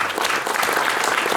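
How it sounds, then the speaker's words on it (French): Brief, steady burst of audience applause at a sports inclusion association event, many hands clapping together at an even level for a coach and world champion. "on peut l'applaudir quand même"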